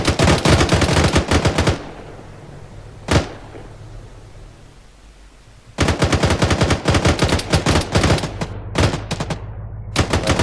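Rapid automatic gunfire from an ARMA 3 firefight crackles in loud sustained bursts, broken by a lone shot and a quieter lull before another long volley with sharp single cracks near the end.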